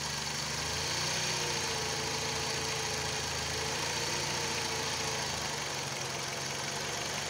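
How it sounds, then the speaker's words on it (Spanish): A 2003 Dodge Stratus engine runs steadily with a slight rise in revs, a constant mid-pitched hum and faint ticking vibration heard close up with no one talking. "Vamos a ver si lo acelero un poquito más"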